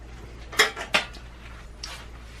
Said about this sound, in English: If whisking is too difficult, which it seems to be today, you can stir.